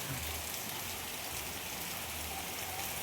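A heavy downpour falls in Porbandar, a continuous, close roar of rain striking the ground and roofs, unbroken and uniform for the whole stretch with no talk.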